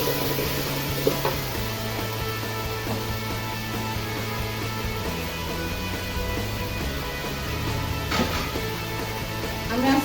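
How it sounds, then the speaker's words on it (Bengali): Beef tehari cooked with packet spice mix and ground coriander sizzles steadily in a pot, a continuous close frying hiss broken by a few faint stirring scrapes, with almost no talking. "এখন আমি এটা ভালো করে কষিয়ে নিব।"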